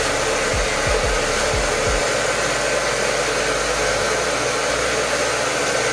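Hair dryer blowing on a wig, a loud, steady close-up whoosh of rushing air that runs unbroken for the whole stretch, with a few low knocks near the start and no talking.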